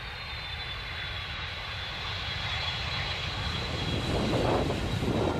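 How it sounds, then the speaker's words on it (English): A steady airplane engine roar fills the air as a continuous broadband drone, holding even and swelling slightly louder toward the end, with no talking. "Someone invented an airplane that would have the ability to detach and parachute safely to the ground"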